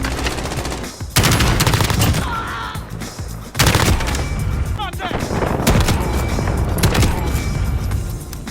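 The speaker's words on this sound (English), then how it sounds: "As you can hear, these weapons sound extra beefy, and even the silenced weapons have this kind of punch to them that's really powerful." Rapid automatic gunfire in the Call of Duty: Modern Warfare video game, dense bursts and heavy booms filling the whole stretch, close and loud, with a brief mechanical reload click partway through.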